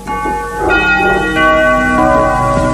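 A synthesized bell tone with bright metallic partials, struck and layered in a few successive notes that ring on and sustain, loud with no voices.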